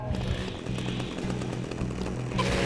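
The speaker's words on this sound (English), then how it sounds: "Good old chainsaw." A chainsaw in the Manhunt video game roars close and loud, its rough engine chugging in a pulsing rhythm with a brief rev at the end.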